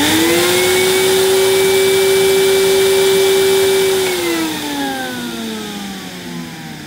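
A 1986 British-made Hoover Spirit vacuum cleaner runs loud and close with a steady motor whine, then the pitch drops and the roar eases slightly toward the end, with no speech.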